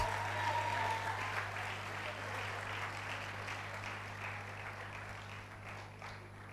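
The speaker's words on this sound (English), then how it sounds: "Please, let's keep clapping for him." An audience at a nursing induction ceremony applauds a graduate, a dense, steady wash of clapping that fades slightly toward the end, with a low electrical hum underneath.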